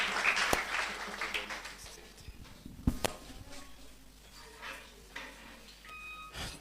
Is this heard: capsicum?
no